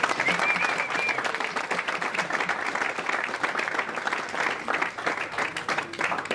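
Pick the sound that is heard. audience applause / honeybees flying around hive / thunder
audience applause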